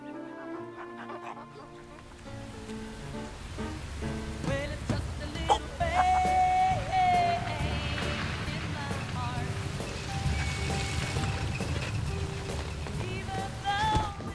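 Steady rain falls at night around a roadside where a young hitchhiker stands, a dense hiss of drops filling the scene throughout, with music and faint background sounds layered over it.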